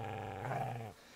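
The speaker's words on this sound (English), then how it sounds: "Dog's protecting the butcher" Dog growling in the medieval setting of the video game Kingdom Come: Deliverance, a single low, rumbling snarl close by lasting about a second before cutting off sharply, with no speech over it.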